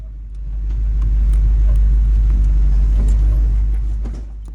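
A tow truck hauls a 4x4 Jeep slung behind it up a steep, tight off-road trail, its engine a steady heavy low rumble that swells and holds loud and close throughout with no voices.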